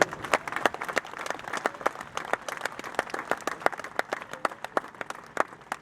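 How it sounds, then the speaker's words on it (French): Audience applause for a rider at an equestrian eventing competition in Pau, France, a steady outdoor patter of many hands with sharp individual claps standing out, moderately loud and continuous throughout. "Et applaudissez à nouveau encore cette grande championne qui est Nicolas Wilson"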